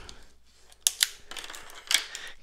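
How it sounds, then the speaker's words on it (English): Scissors snipping open a plastic-wrapped hanger box of 2021 Topps Update Series baseball cards, a few crisp close cuts mixed with crinkling plastic and handling noise. "Grab my scissors here and"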